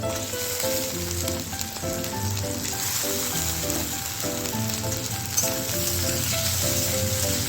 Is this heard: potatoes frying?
yes